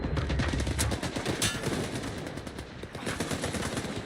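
Rapid automatic gunfire in the shooter game S.T.A.L.K.E.R. 2: Heart of Chornobyl, a loud, dense burst of shots in the first second followed by more sporadic cracks and echoing fire through the rest, with no talking.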